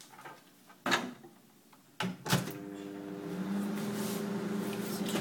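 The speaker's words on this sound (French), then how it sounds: "Je vais la faire au micro-ondes quelques instants." A kitchen microwave oven warms cream for a no-bake cheesecake: a couple of sharp clicks and clunks as the door shuts and controls are set, then a steady low electrical hum as it starts running.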